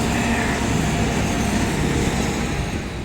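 An airplane taking off, a loud continuous broadband roar of engines heard from inside the cabin, steady throughout.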